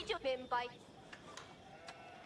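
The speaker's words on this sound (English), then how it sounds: "We got a really good amount of sheep." Sheep in a medieval strategy video game bleat in a few short, close calls at the start, followed by quiet game ambience with faint clicks, and no talk over it.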